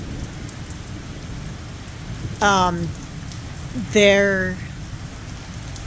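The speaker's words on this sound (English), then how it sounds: "And the rain has finally happened." Heavy rain pours steadily through a thunderstorm, a dense continuous hiss close to the microphone, while someone talks briefly over it in two short bursts.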